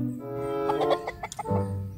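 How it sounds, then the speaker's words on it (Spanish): A rooster clucks close by in a quick series of short, choppy calls that come in bursts over a steady low background noise. "Usted va a ver qué gallo tan bonito."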